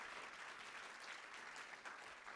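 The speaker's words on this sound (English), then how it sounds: "Let's have another big round of applause for all 8 companies." A demo day crowd gives sustained applause for eight startup companies: a continuous, even wash of many hands clapping, heard from a distance and fairly quiet, with no speech over it.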